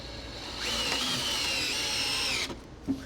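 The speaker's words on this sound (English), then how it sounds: "Drill battery is only slightly charged, so we're just gonna do one on each side." A cordless drill running on a low battery drives a screw into free scrap wood, a steady whirring whine that ramps up and holds for about two seconds before stopping, followed by a small knock.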